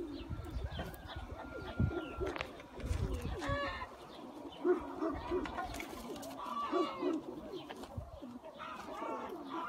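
Young Mardin pigeons cooing and fluttering nearby over a dense outdoor background, with some movement and rustling throughout.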